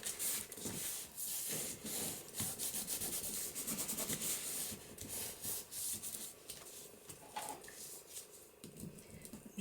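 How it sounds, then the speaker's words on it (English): Bone folder burnishing paper down on a Christmas window flip pocket card, a steady close rubbing and scraping with brief pauses, faint voice murmurs underneath. "I'm just going to burnish that down with my bone folder."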